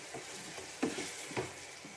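Mango kasundi simmering in a pan: a faint, steady sizzle broken by a few soft bubbling pops, heard close with no talking.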